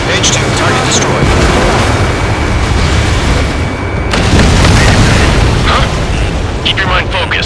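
A heavy, booming explosion as a target is destroyed in the Ace Combat 7: Skies Unknown PC combat flight game, rumbling loud and continuous beneath a constant roar of jet and battle noise.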